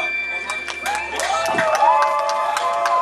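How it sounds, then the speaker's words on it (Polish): Outdoor crowd at a September 2009 town picnic in Słupsk claps and cheers, scattered hand claps and whoops under a steady wash of crowd noise with music tones, moderately distant and continuous throughout. "Tak, z rozpędu, tak, brawa, brawa."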